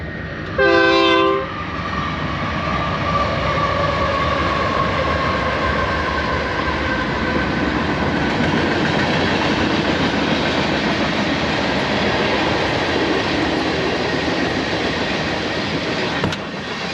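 A train rolls past in the open desert, opening with one loud, brief horn blast, then a long steady rumble and clatter of cars passing nearby, with nobody speaking.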